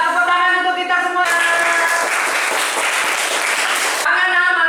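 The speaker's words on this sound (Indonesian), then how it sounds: "Tepuk tangan untuk kita semua." Classroom children clapping together for a few seconds, loud and close, with sustained musical tones before and after the burst.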